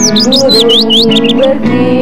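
Birds chirp at sunrise in quick, bright, rising and falling tweets that repeat in a steady run, loud and close over a sustained musical backing.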